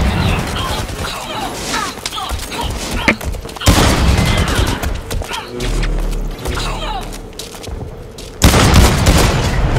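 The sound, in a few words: gunfire in the video game Blacklight, sniper pre-firing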